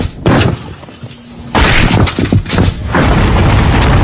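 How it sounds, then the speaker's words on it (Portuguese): A cannon shot strikes a bowling ball, producing heavy booming impacts with a loud hit and sustained rumbling crash, standing alone without voices. "Você mandou muito bem apontando o canhão para a bola de boliche."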